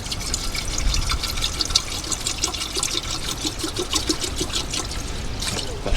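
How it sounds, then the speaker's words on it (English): Water from a bottle poured into a kettle at an off-grid car campsite, a steady splashing trickle lasting several seconds, close and continuous with no talk. "Let's get some water in the kettle."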